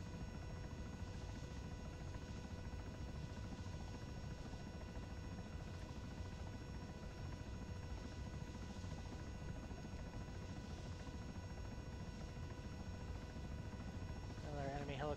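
A CH-67 Huron heavy transport helicopter in ARMA 3 runs throughout with a steady, loud, droning rotor and turbine whine, and a radio voice talks over it.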